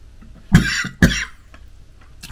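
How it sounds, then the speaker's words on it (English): A person coughs twice in quick succession at close range, two sharp bursts about half a second apart, followed by faint breathing and low background hum. "Excuse me for coughing on you."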